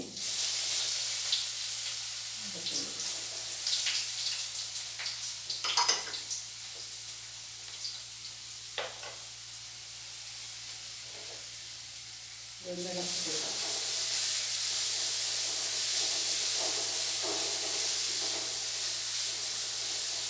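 Crushed ginger and garlic fry in a pan with dried red chillies for chicken curry, a steady hiss and sizzle throughout that grows louder partway, with a few clinks and scrapes.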